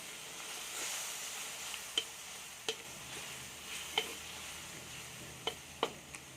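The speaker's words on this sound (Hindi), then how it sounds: "लहसुन अदरक का पेस्ट जो है हमारा अच्छी तरह भुन चुका है" Garlic ginger paste frying with onions in a pan for a bhindi gosht curry, a soft steady sizzle punctuated by several sharp clicks and scrapes of stirring, with no talking.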